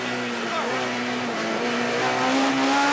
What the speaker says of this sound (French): Là, on entend que les régimes moteurs sont assez élevés.